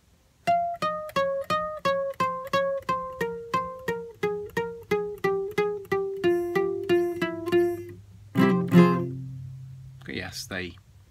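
A guitar plucks the first phrase of a Spanish song, a clear run of about twenty single notes stepping downward in a steady rhythm, then a strummed chord near the end followed by a brief voice.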